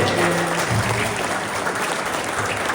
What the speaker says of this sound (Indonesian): kita beri tepuk tangan buat semua yang hadir bersama kita.